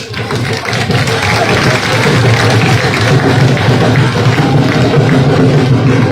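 A large crowd at an outdoor election rally in a village applauds loudly and continuously, a dense, steady wash of clapping with voices mixed in throughout.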